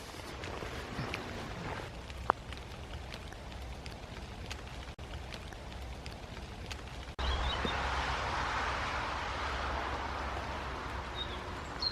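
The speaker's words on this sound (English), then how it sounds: "Now it started raining again." Steady rain patters in a garden, growing heavier and louder partway through, with a few scattered drips and faint background sounds.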